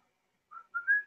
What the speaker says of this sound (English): I heard the whistling.